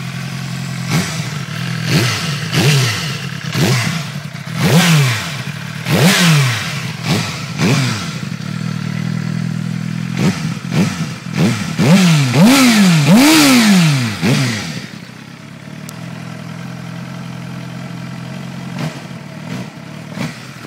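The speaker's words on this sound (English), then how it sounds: "GSXR 600 K9 25th anniversary edition with the aero damper." A Suzuki GSX-R 600 K9 25th anniversary edition with an aero damper, on a cold day in the Netherlands, is revved again and again. Sharp rising and falling blips over a rough idle come close and loud, then the engine settles back to idle.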